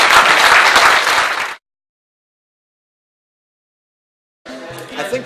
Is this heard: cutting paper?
no